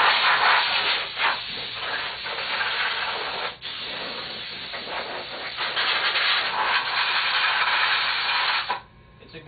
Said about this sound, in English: we're going to take our air hose and make sure we blast out all these surfaces and crevices